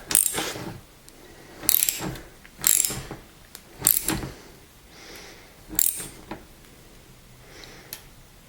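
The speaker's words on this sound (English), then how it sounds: "you just want to torque it down so that the wheel doesn't wiggle from side to side" A wrench ratchets a locking nut down onto a skateboard wheel axle, several bursts of close, loud clicking in a stop-start rhythm with quieter pauses between.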